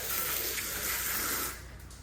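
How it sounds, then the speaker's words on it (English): A hose spraying water to rinse leftover milk off the top of a milk truck's tank at a farm, a steady loud close hiss that drops off sharply near the end. "we'll spray the top of the tank off"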